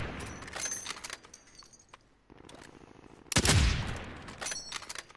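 Gunfire in the video game Call of Duty Warzone: bursts of rapid shots and a loud heavy volley near the middle, with scattered single shots around them, busy and close.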